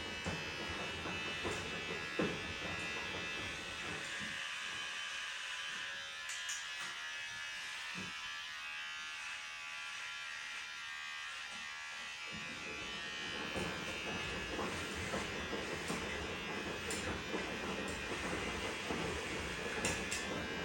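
An electric hair clipper runs steadily at close range, a continuous buzzing hum through the whole stretch that deepens briefly while cutting, with no talk over it.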